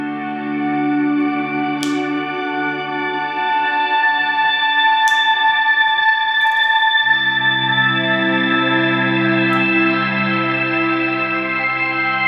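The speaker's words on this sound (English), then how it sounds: "if you listen to this with a big shimmer reverb on it as well" Sustained chords on a Fender Ed O'Brien EOB Stratocaster ring out with a shimmering, octave-rich reverb tail, shifting to a new low chord midway, with occasional sharp string clicks.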